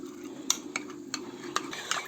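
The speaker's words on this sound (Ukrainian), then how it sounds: "перемішуємо, щоб не було комочків." A spoon clinks against a glass or cup in a few quick, close taps while starch is stirred into water.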